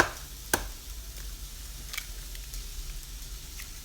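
Scrambled eggs cooking in a pan, a quiet sizzle with sharp clicks and scrapes of a utensil stirring against the pan, close and with no voices.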